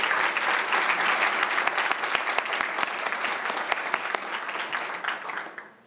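A hall audience at a 2018 award ceremony breaks into sustained applause for an honoree, dense clapping holding steady for several seconds before tapering off at the end.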